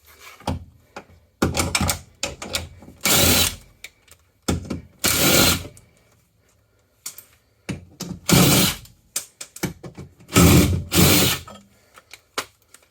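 A 17 mm wrench working bolts on a car engine during a Subaru GF8 WRX engine swap, giving repeated bursts of ratcheting and metallic clicking separated by short pauses, close and fairly loud.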